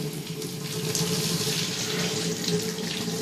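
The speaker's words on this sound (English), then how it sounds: "So let's turn on our water." Water running from a tap into a bath, a steady, close gushing splash that holds evenly from start to finish with no talking.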